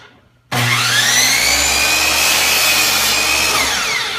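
A power saw cuts through wood stock held against a fence in a school technology workshop, starting abruptly and then holding a loud, steady whine with a rising pitch for several seconds.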